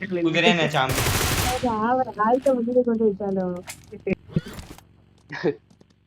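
Gunfire in a video game: a short, loud burst of rapid shots near the start, surrounded by players talking.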